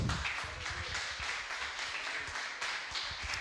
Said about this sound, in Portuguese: ficava em pé e aplaudia bem forte esse nosso Deus